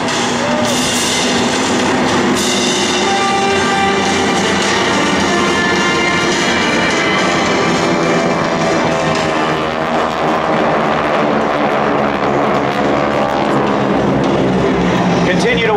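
GEICO Skytypers aircraft roar overhead in a formation fan pass at the 2012 Joint Services Open House air show, a loud, sustained, broadband rush that fills the whole stretch.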